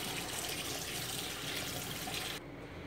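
Tap water runs steadily over thawed shrimp in a kitchen sink as they are rinsed, a continuous close splashing hiss that drops off near the end, with no talking.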